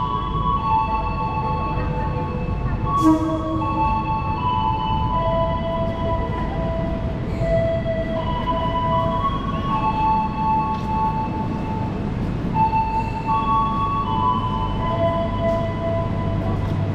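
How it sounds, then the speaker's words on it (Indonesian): The Minangkabau Express airport train running, a steady loud rumble of the rail carriage with sustained tonal whines and hums throughout, heard from on board without talk. "Nah, inilah kereta api bandara"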